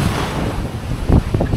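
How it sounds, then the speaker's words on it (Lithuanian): Wind blows off the shore at the Baltic seaside of Krynica Morska in autumn, a loud, steady roar buffeting the microphone with a few stronger gusts near the end. "Vėjas vėjas nuo kranto. Iš ten pučia vėjas."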